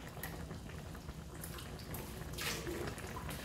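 A cup of water poured into a cooking pot while making chicken lady fingers, a soft steady splashing and trickling that swells briefly near the end, fairly faint and with no talk.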